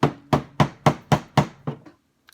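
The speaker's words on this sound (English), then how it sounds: "I'm just holding the pot and banging it like this on the table" A clay pot is banged against the underside of a table to loosen a rooted Greenovia succulent. Seven sharp, hollow knocks land in a steady rhythm, close and loud, with no talking.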